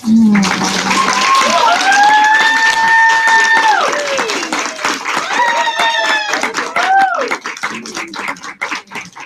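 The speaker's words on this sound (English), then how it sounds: "Please welcome with a loud round of applause, Heidi Go." An audience at a director's debut event applauds loudly to welcome a speaker, with clapping throughout and sustained whooping cheers and voices on top before the noise thins out.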